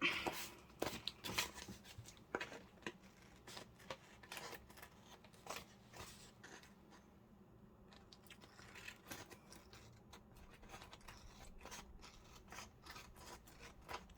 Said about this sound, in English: Let's cut these down then.